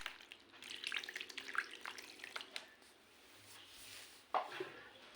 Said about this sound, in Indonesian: masukkan adonannya tadi dan tuang air secukupnya sampai airnya menutup adonan.